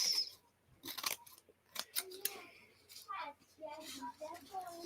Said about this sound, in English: And then we're going to trim this.